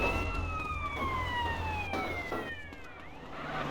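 A police siren wails in long descending sweeps, fairly distant and fading slightly, over low traffic rumble.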